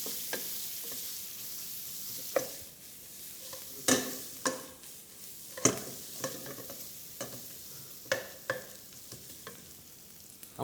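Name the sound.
frying onion and meat with butter in a pan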